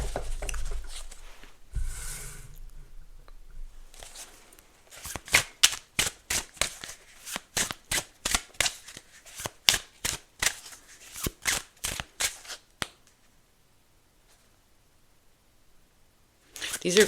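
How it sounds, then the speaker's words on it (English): Tarot cards being shuffled by hand in a quiet room, a quick run of crisp, rhythmic riffling snaps lasting several seconds, with a few soft handling sounds before and after. "Just gotta shuffle a little better."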